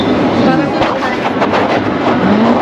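A train rumbles past up close at a station, a loud, steady roar with rhythmic clatter from the wheels running through the whole stretch.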